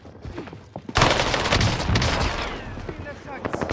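A burst of rapid gunfire from a PPSh submachine gun in Call of Duty Warzone on Rebirth Island, loud and close, with sharp repeated shots over game sounds and a voice talking.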